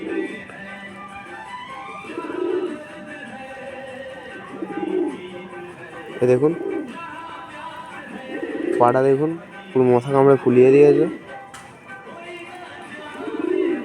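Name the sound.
pigeon cooing while handled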